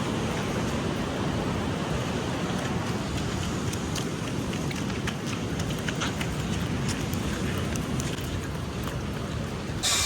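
Steady rain pours down, a dense hissing wash with scattered drops ticking close by, continuous throughout with no voices.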